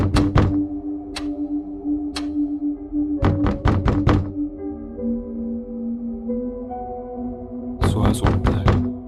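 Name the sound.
someone knocking repeatedly on a door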